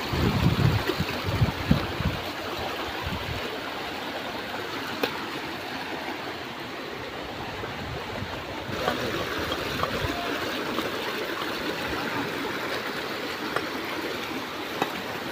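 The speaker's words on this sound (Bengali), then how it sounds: "তো দেখেন পানির কত স্রোত" A strong stream of water rushes past in a steady, loud, broadband roar that holds for about fifteen seconds, with a few brief knocks near the start.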